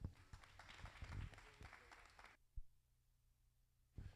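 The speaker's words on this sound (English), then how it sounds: "if anybody deserves a round of applause, it's this group of exhibitors here showing these older does." A short burst of applause for exhibitors showing older Boer goat does at a goat show, a crowd clapping fairly faintly for a couple of seconds before breaking off into near silence.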